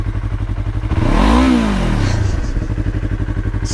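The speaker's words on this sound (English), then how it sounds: "Just gonna do just as before, revving it just a little bit above 10K in the same fashion." A Yamaha R3 motorcycle fitted with an Akrapovič GP slip-on exhaust, idling with a fast rhythmic pulse, then revved once to about 10,000 rpm in a loud, close rising-and-falling roar before settling back to idle.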